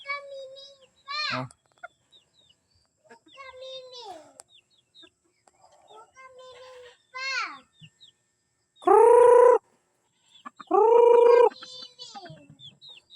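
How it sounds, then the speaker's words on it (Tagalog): A hen of purebred red junglefowl, or labuyo, clucks in a few separate loud bursts, with quieter calls and a voice between them. "Babaeng purong labuyo napakaamo oh"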